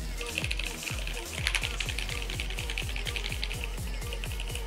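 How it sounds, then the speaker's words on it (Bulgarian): Typing on a Logitech G Pro X TKL keyboard with brown switches and doubleshot PBT keycaps, a steady run of close, even keystroke clicks and thuds repeating rapidly throughout with no speech. "саунд тест на самата клавиатура, което се звучи съвсем стандартно, като клавиатура с кафеви свичове с DoubleShot PBT пластмаса"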